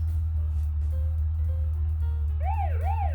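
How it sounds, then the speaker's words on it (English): A police car siren in BeamNG.drive wails in rising and falling sweeps near the end, over a constant low hum, with a few brief tones before it. "Oh, that's the siren."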